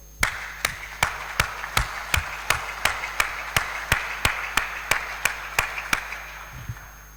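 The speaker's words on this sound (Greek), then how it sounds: "θεωρώ ότι τους αξίζει όλων ένα θερμό" An audience claps in an even, steady rhythm at a cooperative's informational gathering, about sixteen sharp, evenly spaced claps that are fairly loud and close, with no speech over them.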